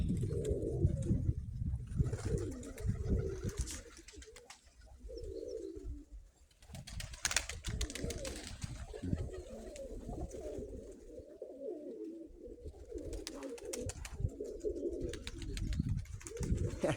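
Pigeons coo repeatedly outdoors, their low, soft, rolling calls coming in close, uneven bursts over a steady background hum.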